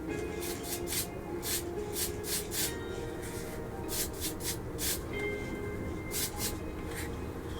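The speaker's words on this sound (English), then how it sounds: "Now I'm going to use Mr. Surfacer Black 1500. My can is almost empty." Short hissing bursts from a nearly empty aerosol can of Mr. Surfacer Black 1500 primer, sprayed in quick repeated blasts onto a 1/144 scale model aircraft over a steady background hum, with no talking.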